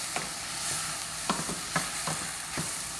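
Vegetables and goat cheese stirred in a pan, a spoon scraping and knocking the mixture in several separate pushes over a quiet, steady sizzle, close by with no talking.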